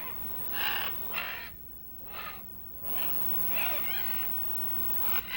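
Macaws squabbling at a clay lick bank in Manu Park, Peru, giving a series of harsh, raspy squawks in bursts with short gaps, moderately loud over a steady background hiss.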